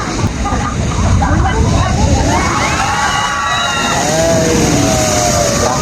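Water pouring down a waterfall into a lagoon, a steady broad rushing wash close by, with voices and a few brief whistling or chirping sounds over the continuous roar.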